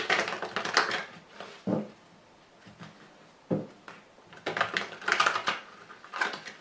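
Tarot cards being cut and shuffled at a reading table, a run of crisp papery riffles and soft taps that come in uneven clusters, close and clear, with no talking.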